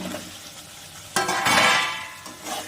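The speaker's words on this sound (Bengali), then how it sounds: "এবার এর মধ্যে আমি আলুগুলো দিয়ে দিচ্ছি" Potatoes tipped into a pan of cooked spice paste for a Bengali fish curry set off a sudden loud sizzle after a quiet moment, hissing strongly and then easing off. No one speaks.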